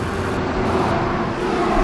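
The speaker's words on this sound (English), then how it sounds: "Please excuse the truck noise." Truck and road traffic rumble steadily beside a highway on Vancouver Island, a constant close wash of engine and tyre noise.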